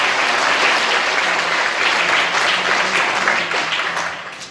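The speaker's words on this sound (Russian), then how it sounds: "Их надо аплодисментами благодарить" Applause from a festival audience at the closing ceremony of a film festival, a dense sustained wash of many hands clapping that fades off toward the end.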